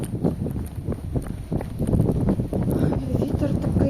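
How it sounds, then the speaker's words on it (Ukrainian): Strong wind buffets the microphone outdoors in Kyiv in gusty, uneven bursts, a rough low rumble that grows heavier toward the end. "на вулиці дуже сильний вітер."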